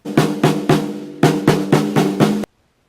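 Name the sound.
snare drum being played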